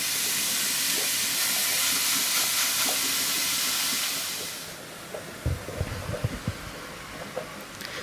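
Minced meat browns in a heated pot for macaroni, a loud sizzling hiss that dies down midway, followed by scattered clunks and scrapes of stirring against the pot.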